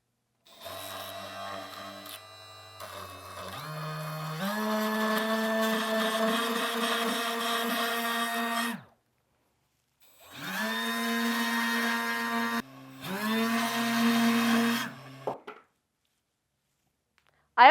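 A Milwaukee M12 Fuel orbital detail sander runs in two long passes, each with a high, steady whine that shifts pitch as it presses into the workpiece. A silent pause separates the passes, and each run cuts off abruptly.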